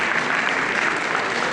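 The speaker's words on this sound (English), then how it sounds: "Please give him a round of applause." A round of applause for a tourism company CEO at a Philippine tourism company celebration, an even wash of clapping from a crowd, moderately distant and steady throughout.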